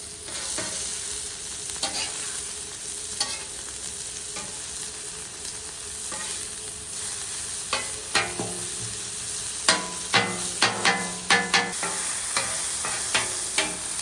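Chorizo sizzles and fries on a hot Blackstone griddle, a constant crackling hiss with sharper scraping stir strokes growing more frequent toward the end.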